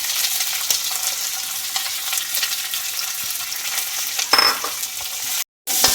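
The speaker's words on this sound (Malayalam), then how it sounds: "കുറച്ച് സവോള ഒരല്പം മൂത്ത് വരണേ." Sliced onions sizzle steadily as they fry in a pan for an egg and tomato thoran, a close, continuous hiss broken by a brief stir and a short gap near the end.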